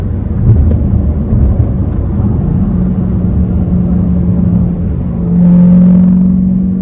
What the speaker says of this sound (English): you hear the exhaust in the back